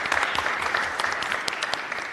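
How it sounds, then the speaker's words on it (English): Brief, moderately loud applause from an audience at a county board of supervisors meeting, steady clapping from a modest crowd. "If you could join me for a round of applause."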